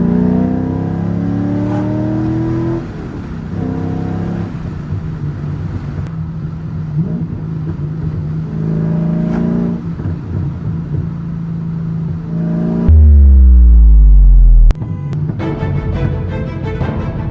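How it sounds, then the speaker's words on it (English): A car engine revving hard as the driver accelerates, the pitch climbing through several gear rises and dropping between shifts, loud and close from inside the car, with a deep low rumble surging near the end. "So you can drive a little bit harder on the car"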